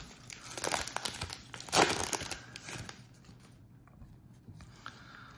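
Topps Heritage 2024 baseball card packs torn open by hand, a burst of close crinkling and ripping foil wrappers in the first three seconds, then quieter rustling of cards and packaging.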